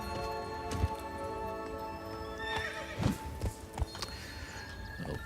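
Roach the horse from The Witcher 3: Blood and Wine trots with scattered, sharp hoof clops that stand out over a sustained musical score, along with a whinny, and nobody talks.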